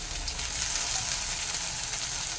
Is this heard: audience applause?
no